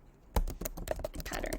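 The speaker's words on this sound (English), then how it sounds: "I'm going to type in Christmas" Quick clatter of keystrokes on a computer keyboard, close and fairly quiet, a short run of taps typing a search word.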